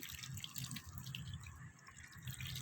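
Water is sprinkled over apple snails kept for hibernation, a soft patter of drips and splashes spread evenly throughout, fairly close and gentle.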